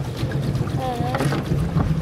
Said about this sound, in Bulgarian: Моряците, гребем.